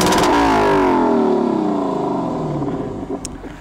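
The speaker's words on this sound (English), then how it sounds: "that's why you want to get the 5-liter V8 in this car" A powerful 5-liter V8 engine in a 2021 Lexus LC 500 Convertible revs hard and loud, its pitch sweeping down as it settles back toward idle, close and alone.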